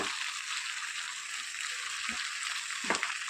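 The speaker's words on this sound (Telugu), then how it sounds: "తోటకూర అంతా కూడా ఒకసారి బాగా కలుపుకుందాము" Amaranth leaves are stirred in a frying pan, giving a steady close sizzle with a few soft scrapes of a spatula against the pan and no talking.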